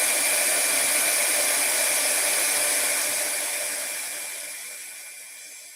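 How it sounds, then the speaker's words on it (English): A hair dryer runs with a steady, loud whooshing hiss and a high whine up close, holding level before gradually fading down over its last seconds, with no talking over it. "Lost my dryer for a minute."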